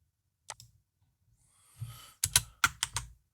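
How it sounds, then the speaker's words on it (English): Computer keyboard keys pressed during a server setup: a single click, a short pause, then a quick cluster of four or five close, crisp taps, with no talking. "hit the screenshot button on his keyboard"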